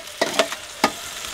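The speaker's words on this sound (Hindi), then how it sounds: "कीमे को अच्छी तरह हम फ्राई कर लेंगे।" Minced meat keema for a village-style fried matar keema fries in a pan: a soft sizzle runs underneath while a spatula makes three or four quick, close scraping strokes.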